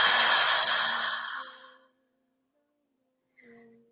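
A deep, relaxed breath out during a voice and breathing exercise, a long breathy exhalation lasting nearly two seconds that fades into silence, followed by a brief soft breath near the end.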